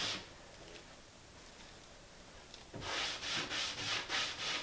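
A patina finish is rubbed gently onto a surface: faint quiet friction at first, then a run of soft, rhythmic rubbing strokes close by.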